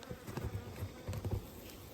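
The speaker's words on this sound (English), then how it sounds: "Solid amount of bees in this top box. These are the Italians" Italian honeybees fill the top box of an orange backyard hive, their buzzing a close, steady drone with small swells in loudness over the brief stretch, and no voices.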